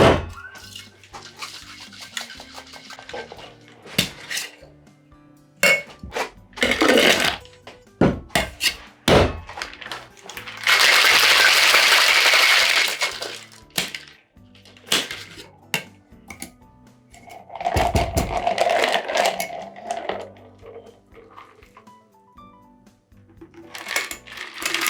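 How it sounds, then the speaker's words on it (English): A cocktail shaker worked hard in a dry shake for a Pisco Sour, building egg white foam without ice: bursts of rattling, clattering knocks and thunks, with a sustained loud stretch of vigorous shaking in the middle, no talking. "We're gonna go ahead and do a dry shake."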